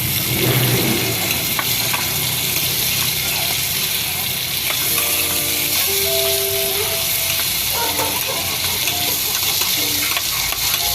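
Food sizzles and crackles loudly in hot oil while being stirred, with scraping clatter and a few brief whistling tones partway through.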